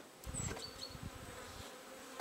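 A steady, soft hum of many honeybees buzzing close by in an open hive, with a few individual insects droning past now and then.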